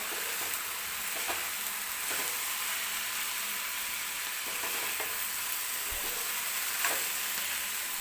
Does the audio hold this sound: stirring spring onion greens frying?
yes